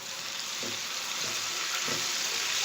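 Ridge gourd frying with ginger garlic paste in a pan, a steady broadband sizzle throughout with a few soft stirring scrapes, close and alone without talk.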